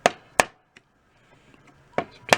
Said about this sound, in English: I might have to tap on it a little bit. So what I'll do is I'll take my hammer,